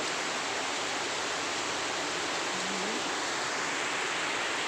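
Summer rain falls steadily as a dense, even hiss that stays level and unbroken throughout, with no voices over it.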